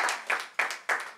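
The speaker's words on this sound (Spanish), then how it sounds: "Denle un aplauso al Señor." A church congregation claps in sharp, reverberant bursts at a steady rhythm, each clap ringing briefly in the room, with no talking over it.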